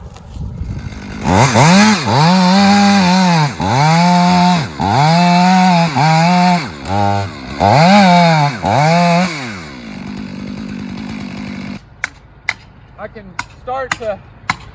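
A chainsaw roars in repeated long revving bursts, rising and falling while felling a tree, then cuts off, followed by a few sharp knocks and taps as felling wedges are driven into the cut.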